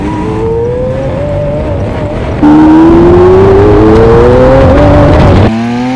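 A Lamborghini Aventador SV out on a test drive climbs loudly through its revs, with rising engine pitch, a sharp jump in volume midway and strong, close acceleration before it eases off.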